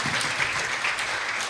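Congregation applause in church after a prayer, a brief dense wash of many hands clapping at once, steady and moderately loud.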